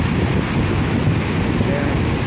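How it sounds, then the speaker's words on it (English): Ocean surf and wind on a beach on the Atlantic coast of Ghana make a steady broadband wash of breaking waves with gusty wind buffeting the microphone, close and continuous. "the ocean here"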